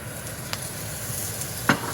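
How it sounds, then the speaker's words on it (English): Garlic singes in a little oil in a frying pan while cooking egg fried rice with Chinese sausage, giving a steady low sizzle with a couple of brief sharp clinks from stirring; no talking. "Put some garlic. About a whole spoon. Just let it kind of singe."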